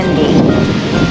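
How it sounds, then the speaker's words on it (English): Wind buffets a microphone outdoors on a chilly morning near a greenhouse, a loud continuous rumbling rush with slight gusting swells throughout. "Ooh-wee, the wind, and it's a little windy."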